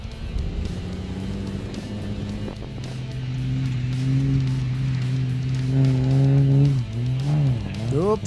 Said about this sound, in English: That's the way to fly a V8 diesel.